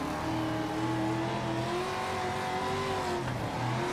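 Dirt race car engine in the World of Outlaws racing game, a loud sustained roar that revs and drones steadily throughout with no talk over it.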